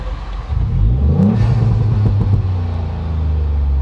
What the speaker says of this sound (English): stick the car in trap mode and let's give it a rev and see